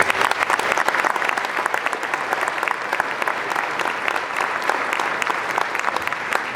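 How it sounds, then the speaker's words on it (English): An audience at a sixth grade holiday school band concert claps in steady, sustained applause, a dense crowd of hands filling the room with no voices standing out. "So one round of applause for that."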